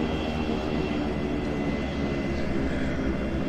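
Steady jet-like ambient engine drone inside a T-6A Texan II in the Prepar3D flight simulator, a continuous, even roar with no breaks and no talking.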